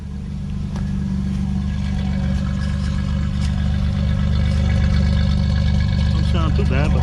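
A 1978 Buick Skylark idles steadily with a low, rumbling note through a brand new exhaust, close by, and a voice speaks briefly near the end.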